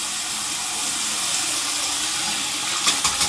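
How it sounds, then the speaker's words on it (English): Cold water runs steadily from a tap while a freshly shaved head is rinsed, a continuous hissing rush with a few brief splashes near the end. "Rinsing in cold water"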